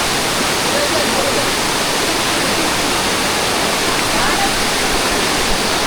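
A hidden waterfall roars as a loud, continuous broadband rush of falling water, close and unbroken throughout.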